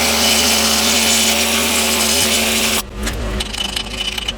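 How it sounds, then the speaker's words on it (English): A loud, harsh continuous grinding of an air nibbler cutting rusty metal on a Silverado's axle area for about three seconds, then it cuts off, leaving scraping and clattering. "I got this air nibbler thing I can use though."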